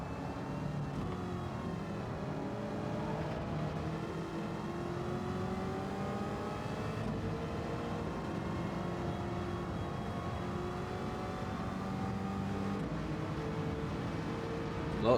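Several race cars in the Gran Turismo 7 video game drone along together, their engines revving and overlapping in a continuous, moderately loud stream, with no talk.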